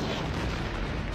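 Rapid laser blaster shots being blocked and deflected in the Lego Star Wars video game, a dense continuous barrage of sharp bursts and booms filling the moment with no voices.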